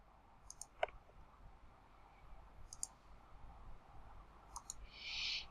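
Sharp, quiet computer mouse clicks in a few separate groups, each a pair or short cluster of crisp ticks against soft background hiss, closing with a brief rustle.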